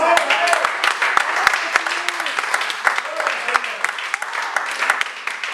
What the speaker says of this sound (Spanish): Dale un fuerte aplauso a él.